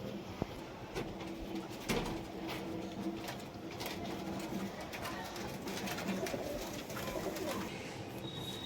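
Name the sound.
pigeons cooing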